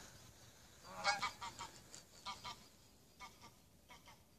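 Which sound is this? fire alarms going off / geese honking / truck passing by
geese honking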